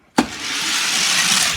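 Hot Wheels die-cast Buick cars released down a racing track, a sharp start click followed by a steady, loud rolling whir that continues to the end.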